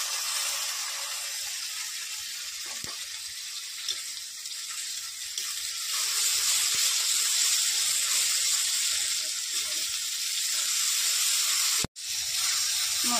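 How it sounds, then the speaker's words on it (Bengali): Ginger, cumin, coriander, chili, onion and turmeric pastes frying together for an Indian fish curry, a steady loud sizzling hiss that runs throughout with little variation and a brief drop near the end. "মশলাটা কষানো হয়ে গেছে"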